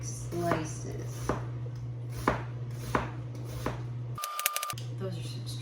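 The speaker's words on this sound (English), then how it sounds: "cut your onions in half and do little 1/8-inch thick slices" A knife slicing halved onions into thin slices on a board, several separate close cuts spaced about a second apart, with a brief beep near the end.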